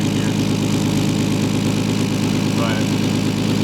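Lexus IS300 fitted with a turbo kit idles with a suspected exhaust leak at a clamp, giving a steady, close, loud rhythmic chugging hum with no break.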